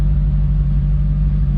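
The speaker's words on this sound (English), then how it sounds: "All we're going to do is take it for a test drive." A Model A hot rod on a test drive after breakdown repairs, its engine giving a steady, loud low rumble that holds constant throughout, close and with no voices over it.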